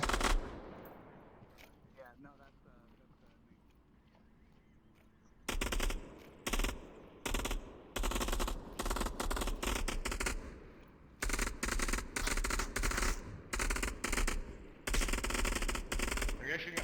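Loud rapid bursts of automatic gunfire rattle in a VR shooter match of Onward, repeated volleys crowding the second half after a quieter stretch with faint voices beneath.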